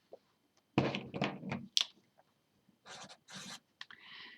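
Chalk or marker scraping and tapping on a board during a math lecture, several short bursts separated by pauses, moderately close in an otherwise quiet room.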